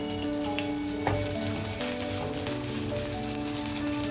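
Chopped onion frying in hot oil in a pan, a dense, even crackling sizzle that holds steady throughout at close range with no talking.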